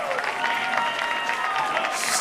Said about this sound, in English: He gets a round of applause from everyone in the stadium